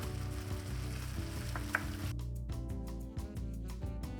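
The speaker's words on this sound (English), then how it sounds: "we're going to cook this until the onion is nice and translucent, and the garlic and the jalapeno are super nice and fragrant as well" Onion, garlic and jalapeno fry with spice mix and salt in a pan for beef tacos, a soft, even sizzle running beneath sustained tonal music-like sounds.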